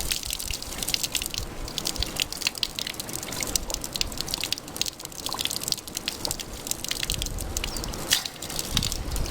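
Water running steadily from a roadside village tap, a continuous splashing trickle with irregular drips, close and fairly quiet, alone without voices.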